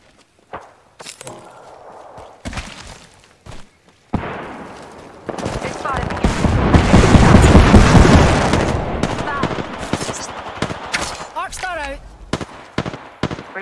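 Gunfire in a shooter video game, a burst of loud, dense shots swelling in the middle and tapering into scattered cracks and footsteps, with a voice talking over parts of it.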